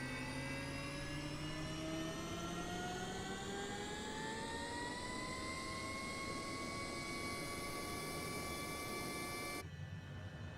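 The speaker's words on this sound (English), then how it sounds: "So we're going to start with the left engine first." HondaJet jet engine spooling up at start in Microsoft Flight Simulator 2020, a steady whine rising smoothly in pitch over about ten seconds with a rushing roar beneath, continuous and fairly loud, alone without speech.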